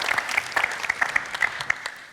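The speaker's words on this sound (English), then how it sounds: "Please join me in giving them a warm hand of applause." An audience at a high-level panel on innovative approaches to peace gives a short burst of applause, fairly sparse individual claps, close and moderately loud with no talking.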